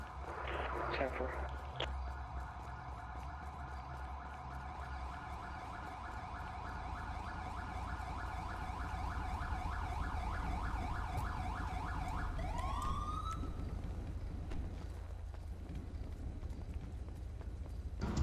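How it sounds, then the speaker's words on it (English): Police car siren in GTA V wailing steadily in a fast repeating pattern, loud and continuous before sweeping down and cutting off, with voices talking over it. "I just have to go and shut off the siren then"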